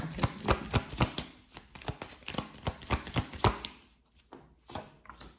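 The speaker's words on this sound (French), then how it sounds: "je vais tirer une autre carte" Tarot cards being shuffled and drawn, a run of crisp close riffling flicks and slaps in quick succession, easing to a few sparse card taps near the end, with no talk.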